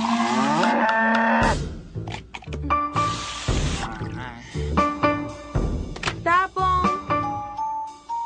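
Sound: cow mooing in a cartoon

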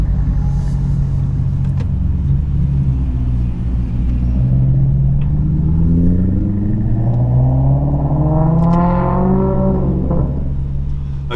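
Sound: car engine idling

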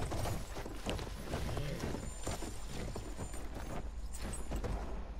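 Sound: horse galloping and snorting in video game Battlefield 1

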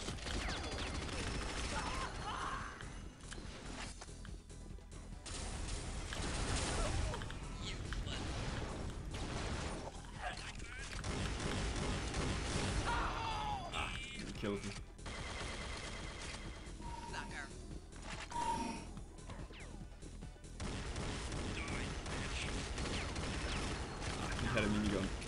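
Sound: minigun firing in video game Unreal Tournament 99

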